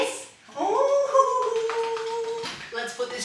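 An old dog howls excitedly after dinner in a long, wavering, loud and close cry that rises and falls over a few seconds, with no talking over it.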